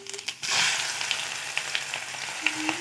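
Chopped onion dropped into hot oil, where fish was just fried, with five-spice tempering sputters into a steady broadband sizzle after a brief start, a few crackles and stirring knocks scattered across it, close and fairly loud, no talking.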